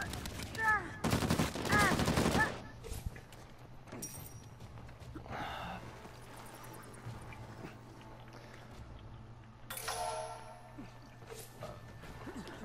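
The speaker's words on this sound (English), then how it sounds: "I don't think I've ever been in a game with this many explosions." Bursts of blasts and gunfire in an Uncharted 4 multiplayer match, with a loud cluster of rapid shots near the start, then scattered booms and clatter under a steady game background.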